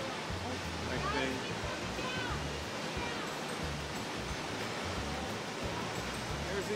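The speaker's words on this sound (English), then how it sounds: "There's these waterfall again." A waterfall at Havasupai Falls roars in a broad steady rush of water, moderately loud and continuous, with people talking over it.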